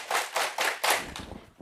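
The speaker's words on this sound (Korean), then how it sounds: "박수를 5번 쳐보겠습니다" An audience claps hands together in unison, several sharp group claps in steady rhythm, close and fairly loud, fading slightly toward the end.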